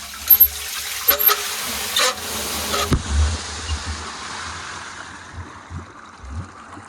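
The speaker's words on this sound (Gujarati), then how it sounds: "પાણી ખોલાઈ ગયું." Water rushes out of an opened outlet in a steady, hissing gush, loud and close, continuing after a few scattered knocks and clatters at the beginning.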